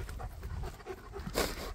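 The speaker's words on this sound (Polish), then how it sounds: "Dobry pies." A dog pants steadily and close by, with quick rhythmic breaths running throughout and no voices.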